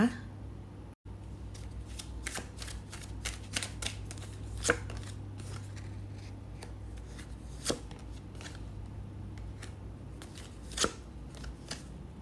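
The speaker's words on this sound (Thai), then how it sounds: "ดี๋ยวเราเลือกไพ่สักครู่นะคะ" Tarot cards are shuffled and handled with soft repeated flicks and snaps at an irregular pace over a steady low hum, close and fairly quiet.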